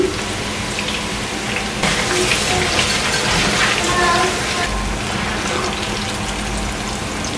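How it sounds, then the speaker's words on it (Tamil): Sliced brinjal frying in hot oil for a Sri Lankan clam and brinjal curry, a steady dense sizzle and crackle that stays loud throughout and swells slightly partway through. "இப்போ இதுவாக பொரிச்சு எடுப்போம்"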